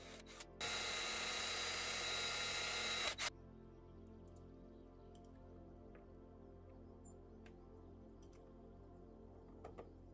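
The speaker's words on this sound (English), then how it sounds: "I drill holes and put rubber feet" A loud, steady mechanical drill whir runs for about two and a half seconds while drilling holes in a board, then stops abruptly, leaving quiet room tone with a few faint clicks.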